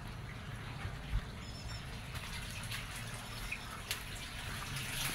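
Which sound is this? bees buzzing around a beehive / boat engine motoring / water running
water running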